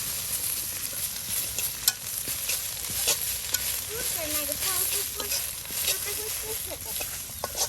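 Neem leaves frying crisp in a pan, a continuous close sizzle with irregular stirring scrapes and crackles, while faint voices murmur underneath at times.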